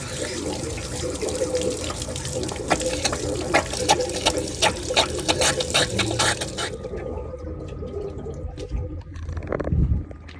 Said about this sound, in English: And we're just going to drain hot water out of here.